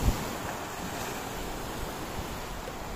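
Large ocean waves roll onto a white sand beach in Agno, Pangasinan on a windy day, a steady surf wash mixed with gusty wind buffeting the microphone, loud and continuous with no talk.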